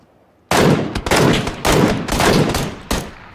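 Loud bursts of MK14 rifle fire in a desert shooter game, several rapid rounds in quick succession after a moment of quiet, then one final shot.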